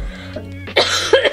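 One woman gives a single short cough, close and fairly loud, with a brief raspy burst following it.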